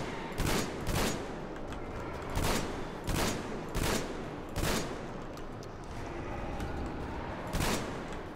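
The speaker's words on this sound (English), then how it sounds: "This shotgun is overpowered." Shotgun blasts in the video game Metro Exodus sound as a series of loud, sharp booms, roughly seven shots spaced about a second apart over steady game ambience.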